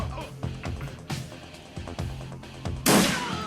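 A single sharp, loud gunshot bursts out near the end in the game Shadowrun Returns, preceded by a run of duller thumping impacts and some talking.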